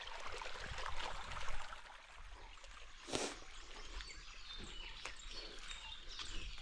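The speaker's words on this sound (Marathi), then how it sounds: "आता पाणी जोरात दिलंय बघा" Water runs strongly through a forest irrigation channel in rural Konkan, making a steady, close rushing wash with no breaks, while birds chirp faintly over it.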